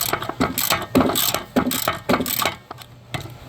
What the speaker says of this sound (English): couple 17 millimeter bolts. I'm going to go ahead and get these loose. Just using my extended ratchet.